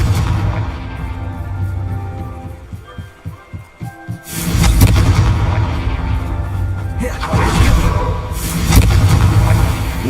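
Confringo fire spell explosions from the video game Hogwarts Legacy burst out as deep, roaring booms, with a low rumble of rhythmic thumps before the first blast and a second surge a few seconds later.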